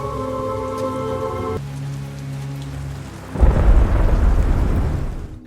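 Heavy rain pours down in a forest, with thunder rumbling loudly as the downpour intensifies into a dense roar.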